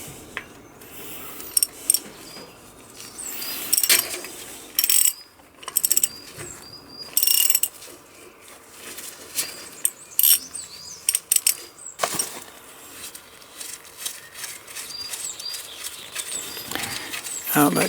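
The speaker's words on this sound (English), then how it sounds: "we need to take the bolt out which holds the crank on" A tool unscrews the bolt holding a bicycle crank on during a crankset replacement, heard as close metallic ratcheting clicks and clinks in bursts with short gaps, plus some handling noise.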